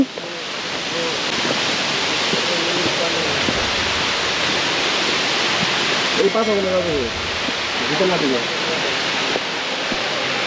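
Waterfall at Fifi Falls on the Shillong to Dawki route in Meghalaya, a steady broadband roar of falling water close by, with a voice talking briefly over it.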